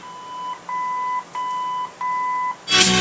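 Electronic beeps from a Bluetooth module fitted to a 1959 Cadillac Wonder Bar AM radio: four steady, clear, high tones in a regular pattern with short gaps, then a brief burst of broadband noise at the end.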